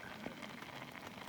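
Steady rain hissing down on surfaces nearby at a forest campsite, a dense continuous patter with no voices.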